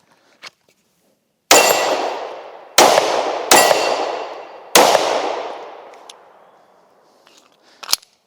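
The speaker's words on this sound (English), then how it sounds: "We'll shoot the rest of this mag and go out of it." Four gunshots from a SIG P365 X Macro pistol at an outdoor range, sharp loud cracks with ringing decay, irregularly spaced and close, followed by faint clinks.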